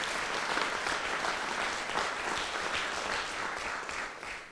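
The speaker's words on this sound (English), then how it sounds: "how about we give all of our storytellers tonight another round of applause" Audience at a community storytelling night applauding the storytellers, a full, steady wash of clapping at moderate distance.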